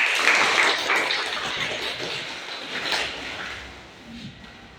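Classroom applause for a student from a different group, a burst of many hands clapping that swells early and gradually fades over several seconds.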